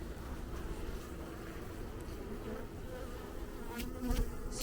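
Honey bees buzz steadily around an open beehive during an inspection, a dense, continuous, fairly faint drone with a few individual bees passing closer.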